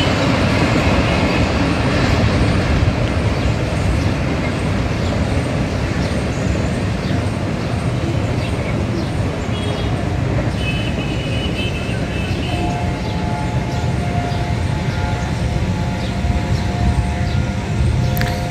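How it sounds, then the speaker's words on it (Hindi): Pakistan Railways Pak Business Express hauled by an H-30 locomotive runs through Okara railway station without stopping, a loud, steady rumble of wheels and carriages throughout with some clatter and a faint squeal late on. "ये रही पाक बिज़नेस एक्सप्रेस, जिसको H-30 लीड कर रहा था।"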